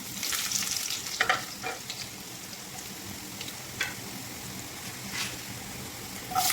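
Garlic sautéing in hot oil in a pan, a bright, steady close sizzle with a few louder crackling bursts and light stirring, no talking.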